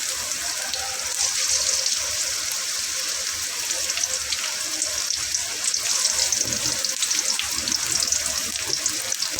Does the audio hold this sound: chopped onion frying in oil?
yes